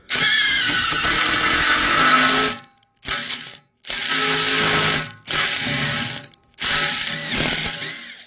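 An impact drill whirs loudly in several bursts with short pauses between, drilling 8.5 mm steel close by, with a grinding, rattling sound as its impact mechanism clicks.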